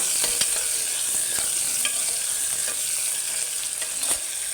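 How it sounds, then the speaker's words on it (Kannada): Onion and tomato frying in a pan for methi pulao, a constant bright sizzle with repeated stirring scrapes and light clicks, close and fairly loud, no speech. "ಈರುಳ್ಳಿ ಫ್ರೈ ಆಗಿದೆ ಈಗ ಟೊಮೆಟೊ ಸೇರಿಸ್ಕೊಂಡಿದ್ದೇನೆ"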